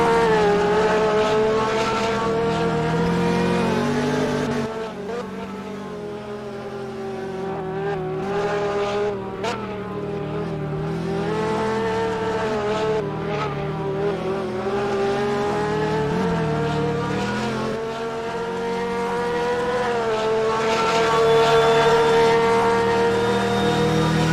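Race cars lapping Daytona at the 2023 GTI season opener: a loud, continuous engine drone whose pitch rises and falls as cars pass, steady for the whole stretch with no voices.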